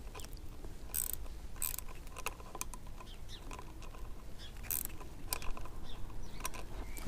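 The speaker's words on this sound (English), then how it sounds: "I wonder if I can get the ratchet in there." A ratchet clicks in short, faint bursts during work on the brake or clutch lever of a Honda CB500X motorcycle. Small metallic ticks and rattles come and go over a quiet background.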